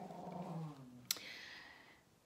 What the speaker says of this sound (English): When that neighbor dog barks,